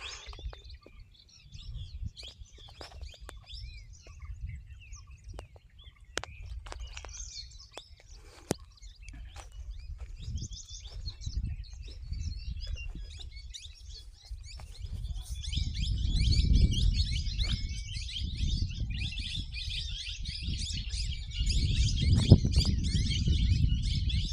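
Doves and other birds calling in a forest, with scattered chirps and calls at a moderate distance against a low rumbling background that swells toward the end.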